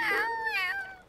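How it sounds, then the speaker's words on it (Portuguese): A trapped kitten meows in a cartoon, a single drawn-out, high-pitched, wavering mew that rises and then falls, heard close and alone. "Oh, não! Um gatinho preso!"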